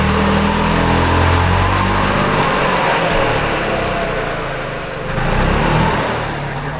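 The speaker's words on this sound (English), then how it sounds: "We got the skid steer down here. It is holding the tree up right now." A skid steer's engine runs loud and close while holding up a tree during a tree removal, a steady heavy drone that dips briefly and then swells again.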